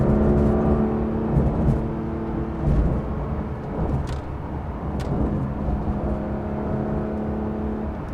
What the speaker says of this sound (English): Now get on the gas, going up the hill here.